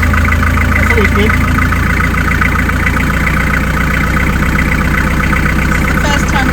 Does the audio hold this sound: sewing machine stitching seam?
no